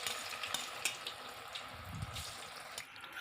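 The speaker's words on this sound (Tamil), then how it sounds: "அதில் நம்ம வேக வச்சு எடுத்துருக்கிற இந்த சேனக்கிழங்கை கொஞ்சம் கொஞ்சமாக சேர்த்துக்கலாம்." Boiled elephant foot yam pieces fry in oil in a pan, giving a soft steady sizzle with faint clatters and stirring noises, quiet and close with no voices.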